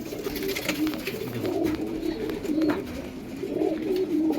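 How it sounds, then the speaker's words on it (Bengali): Andhra pigeons coo nearby in a repeated, throaty rolling pattern, soft swells rising and falling over a faint background hiss, with no talking. "দেখুন পায়রা"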